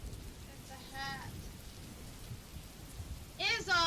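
Recorded rain and thunder play at low level: a constant hiss of rainfall with low rumbling swells, while someone speaks briefly over it twice.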